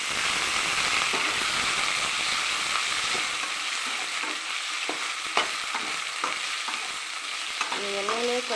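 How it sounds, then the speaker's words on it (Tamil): Raw plantain pieces fry in hot oil, a dense continuous sizzle close by with scattered spatula scrapes and clicks against the pan. "எண்ணெயிலே கொஞ்ச நேரம் இது வறுக்கணும்"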